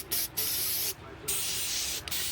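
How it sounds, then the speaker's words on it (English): Foaming cleaner sprayed from a can onto the coilovers of a lifted solid-axle truck, four close loud hissing bursts separated by short pauses. "You just spray this stuff on here, shake it up. Spray it on there. It's gonna foam up."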